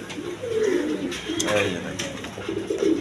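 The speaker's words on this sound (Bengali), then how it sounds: "বিভিন্ন রকম আরও কবুতর আছে, চুয়া সুন্দর আছে, একদম বিগ সাইজে।" Pigeons coo in soft, low, rolling calls, several overlapping phrases close by, while someone talks over them.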